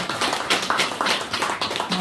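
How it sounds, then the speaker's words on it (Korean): An audience clapping for a reader at a literary talk concert, a close, dense patter of many hands in quick irregular claps running steadily for about two seconds. "우리 김현 선생님께 다시 한번 박수 부탁드리겠습니다."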